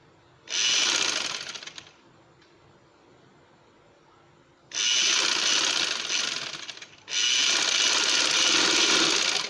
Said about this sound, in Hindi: आपने सिलाई मुकम्मल कर देनी है।